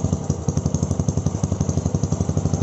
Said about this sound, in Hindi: इस गाड़ी की एग्जॉस्ट की साउंड